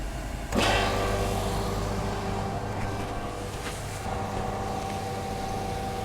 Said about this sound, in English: there's my compressor. It's a hydrovane compressor. I'm going to turn that on. It's going to make a bit of a noise.